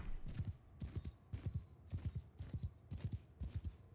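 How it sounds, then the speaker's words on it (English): Horsemen ride at a gallop in the Bannerlord video game, with steady, repeated hoofbeats pounding in a fast clip-clop rhythm, loud and close, and the occasional faint whinny. "it looks like their horsemen are riding now"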